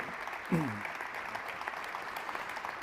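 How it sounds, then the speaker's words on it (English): Soft, distant audience applause at a sustainability gathering in Lisbon, a low even patter that runs throughout, with a brief voice near the start. "An applause, please."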